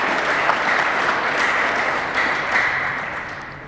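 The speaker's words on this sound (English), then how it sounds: "Round of applause for that." Audience applause fills the room steadily and loudly for a few seconds, a dense wash of clapping that tapers slightly toward the end.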